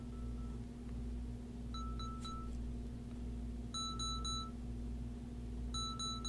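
Short electronic locator beeps from a Belkin Soundform Immerse earbud sound in two bursts, each a quick rapid series of high tones, playing faintly over a steady low hum.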